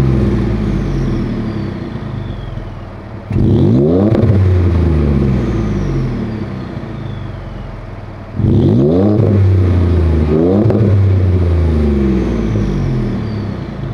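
Ford F-150 fitted with an MBRP exhaust and black 5-inch tip, idling with a deep steady rumble, then revved hard twice, each rise swelling loud and close before settling back.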